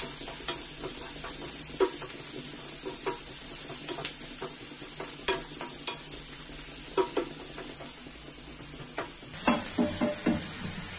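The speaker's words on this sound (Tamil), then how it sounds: "வெங்காயம் வந்து பச்சை வாசனை போற அளவுக்கு நல்லா வதக்கிக்கங்க" Chopped onions, garlic and curry leaves sauté in a pan for curd chutney, a constant close sizzle punctuated by irregular clinks and scrapes of a spoon stirring against the metal.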